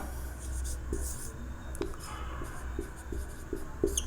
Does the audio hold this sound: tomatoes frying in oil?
no